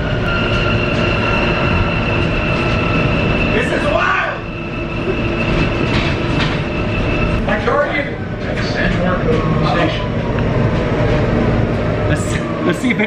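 Steady loud rumble and rattle of the interior of a moving train, with a constant drone, faint wheel clicks and occasional squeals throughout.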